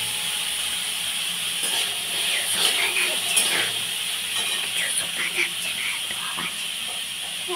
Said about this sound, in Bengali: তো এটা একটুখানি ভাজা ভাজা হবে।